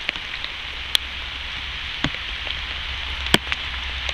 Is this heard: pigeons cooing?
no